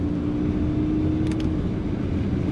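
A 2017 Subaru Outback 2.0L diesel with a CVT accelerating at high speed, a loud steady drone of engine and road noise heard from inside the cabin.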